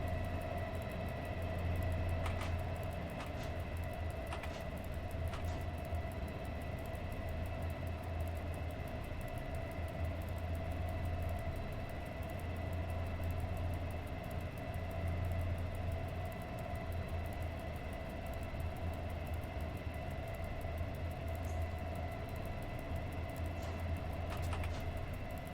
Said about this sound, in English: There is an AI train in game, which is nicknamed after me.